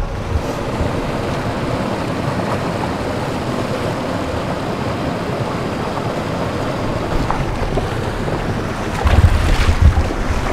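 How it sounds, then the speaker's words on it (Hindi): A waterfall in Pahalgam, Kashmir, rushes in a steady broadband roar heard from outdoors, with wind buffeting the microphone and a brief low thumping swell near the end. "सामने देखो झरना कितना प्यारा आ रहा है"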